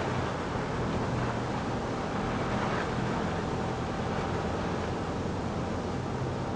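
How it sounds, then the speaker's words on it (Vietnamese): Strong wind roaring steadily in Ha Long in the aftermath of Typhoon Yagi, a dense, continuous broadband rush with no pauses, loud and close like gusts buffeting the microphone. "Gió này bây giờ vẫn khá là to."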